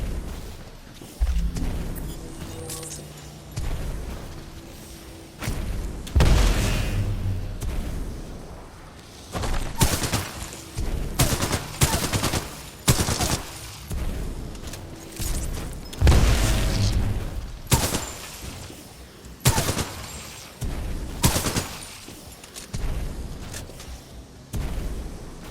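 Assault pistol gunfire in the video game Titanfall 2, loud bursts of shots and booming impacts in quick clusters separated by short pauses, close and alone.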